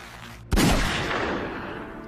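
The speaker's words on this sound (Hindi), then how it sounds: "गोलियां चल रही हैं" A single sharp, loud gunshot cracks out in a movie shootout scene and is followed by a rolling echo that fades over about a second and a half.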